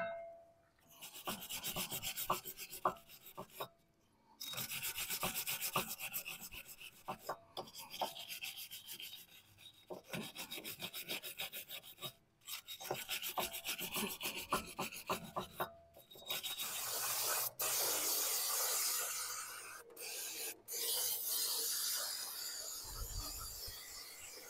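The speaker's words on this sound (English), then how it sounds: "Now you can take the rotor off." Rear brake rotor being worked off a Nissan Altima, a series of rough rasping, scraping bursts with short pauses between, close and fairly quiet, ending in a longer hissing scrape.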